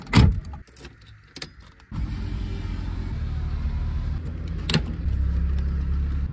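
A damaged car from an accident is started, with a few sharp clicks and a brief whir before the engine catches and settles into a steady, close idle, with a single knock partway through and no talk.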